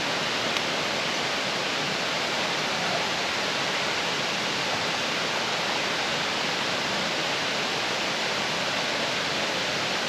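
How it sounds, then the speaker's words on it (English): Waterfalls at Upper Creek Falls near Linville give a steady, even broadband rush heard from a campsite, constant and fairly soft throughout. "I don't know if you can hear the waterfalls in the background"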